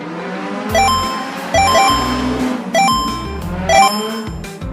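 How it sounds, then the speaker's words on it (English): Cars drift through turns in an animated race, and each drift sounds a bright tonal note over a low revving rumble, with four distinct bursts in quick succession. "Every turn they drift hits a note in the C# major scale."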